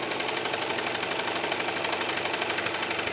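A serger runs steadily and continuously while stitching fabric along a curved seam, a dense, even mechanical whir with fast regular rhythm, loud and close throughout.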